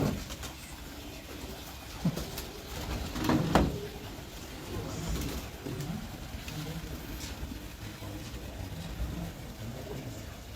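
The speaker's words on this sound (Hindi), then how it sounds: "देखें जी बहुत ही अच्छा बना हुआ है कबूतर।" Racing pigeons at a high-flying pigeon competition in Gujrat, Pakistan, give soft, low cooing in a few short bursts, mixed with a rustle and a brief flutter against steady outdoor background noise.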